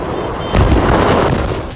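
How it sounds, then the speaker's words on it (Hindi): Firecracker factory explosions in Harda, heard as a loud, heavy rumbling roar that swells about halfway through and keeps booming, close and overpowering. "कैसे पटाखा फैक्ट्री में हो रहे एक के बाद एक धमाकों से धरती भी कांप रही थी"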